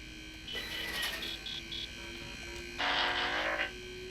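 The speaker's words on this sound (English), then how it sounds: "It makes assertive beeps." A small creature in the sci-fi video game Starfield lets out clusters of short, insistent electronic beeps and chirps, with a longer warbling burst near the end, over a steady background hum.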